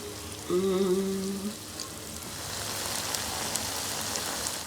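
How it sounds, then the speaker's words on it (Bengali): Food being dropped into hot oil: a short tonal sound comes first, then a soft, close sizzle builds and keeps hissing at a moderate level. "এবার হচ্ছে আমরা এগুলোকে গরম তেলে ছেড়ে দেবো"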